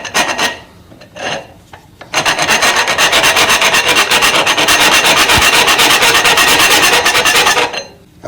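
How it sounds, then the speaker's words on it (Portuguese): A round file rasps on curves cut into wood, first in a few short separate strokes, then in a long, loud, rapid, rhythmic back-and-forth filing run that stops near the end. "Vou na roliça agora, a lima roliça."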